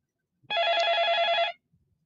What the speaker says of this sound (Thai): ขอรับโทรศัพท์ก่อนครับ